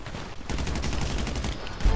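Gunfire in a shooter video game comes as a rapid burst of sharp, repeated shots at moderate volume, lasting about a second and a half.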